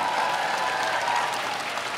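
Crowd at a dance competition applauding after a performance, a dense, steady burst of clapping that fills the whole moment at even loudness.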